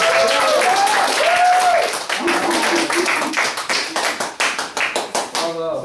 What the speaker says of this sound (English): warm round of applause for our first